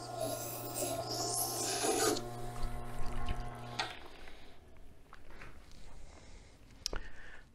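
A grafting knife blade rasps back and forth over a 1000 grit whetstone in steady, close scraping strokes, with a sustained hum in the background and a quieter stretch of lighter rubbing afterward.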